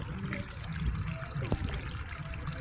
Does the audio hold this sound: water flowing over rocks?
yes